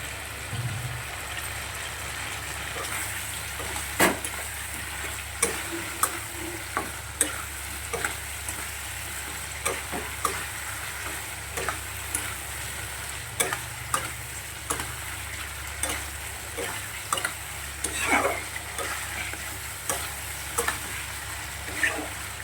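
Paneer sizzles gently in a katla fish masala while a spoon stirs it, with repeated scraping clicks and taps in an irregular rhythm over a soft, continuous frying hiss.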